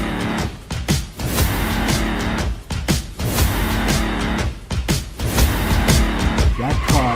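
A car races away hard with repeated tire squeals and skids, engine roaring loud and close in bursts across several seconds, alone without voices.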